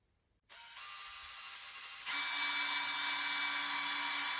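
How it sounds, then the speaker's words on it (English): Power drill with a 4mm bit boring through motorcycle coolant and fuel lines during a Suzuki Hayabusa rebuild; a steady whine starts abruptly, then rises to a louder, higher-pitched sustained drone as the bit bites in, close and alone. "What I'm going to do is drill through all of them together."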